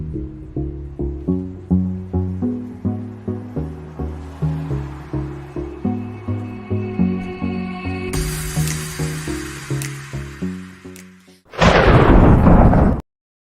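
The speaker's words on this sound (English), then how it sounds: "And with the crack of thunder, Jaime's story has begun." A crack of thunder sound effect bursts loudly after a stretch of rhythmic tonal music, a sharp broadband boom that holds briefly and then cuts off abruptly.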